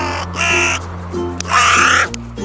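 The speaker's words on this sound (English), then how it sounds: "Crow." In an animal rescue video game, a crow gives two loud, harsh caws in close succession, each a raspy burst separated by a short pause, with no talking.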